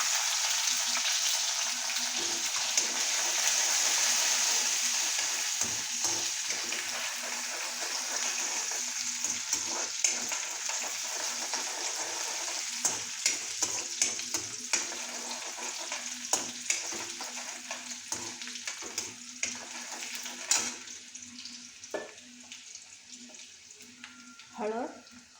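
Onion and garlic frying in a pan for a peanut vegetable dish, a steady loud sizzle throughout with occasional stirring clatter and brief clinks toward the end.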